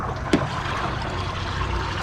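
Liquid pours steadily into a car engine's cooling system, which has a blown head gasket, giving a continuous close trickling wash with one brief knock near the start and no talking.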